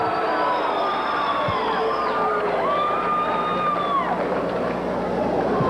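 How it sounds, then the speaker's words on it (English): A wrestling crowd at an early-1980s championship wrestling event keeps up a steady loud roar of applause and cheering, with whistles rising above the dense noise throughout. "once again, a nice round of applause, Larry Winters"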